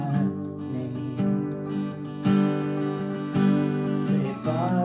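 Acoustic guitar strumming the verse chord progression of a song, steady full strums with clear accented downbeats, close and moderately loud, unaccompanied.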